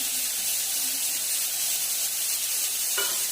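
Asafoetida sizzling as it is added to hot oil, a steady close hiss of frying with a soft stir near the end.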